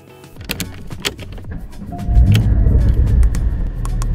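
A 2020 Porsche 718 Cayman GT4 with a 4-liter flat-six engine, opening with a few sharp clicks before the engine swells into a loud, close, sustained rumble that holds to the end.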